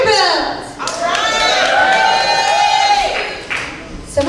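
A stand-up comedy crowd in Nashville whoops and claps in a burst of cheering for Vanderbilt University. Raised voices ring out over scattered clapping, and the noise stays loud for most of the moment before thinning.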